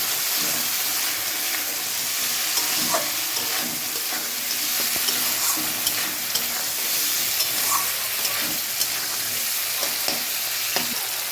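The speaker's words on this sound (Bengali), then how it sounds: "এবার আমি এর মধ্যে ভেজে রাখা কাঁকড়াগুলো অ্যাড করে দিলাম। দিয়ে ভালো করে এটাকে কষিয়ে নেব।" Pre-fried crabs are stir-fried in a spiced masala in a pan, giving a continuous close sizzle and hiss with repeated scraping and knocking of a spoon stirring, without talk.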